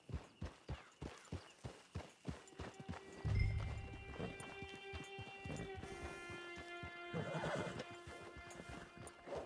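Horse hooves clip-clop in a steady walking rhythm, then a loud, close whinny rises and trails off over a sustained tonal musical bed in the Red Dead Redemption 2 game, with no talk.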